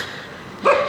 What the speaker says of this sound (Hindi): कुत्ता कहाँ से भौंक रहा है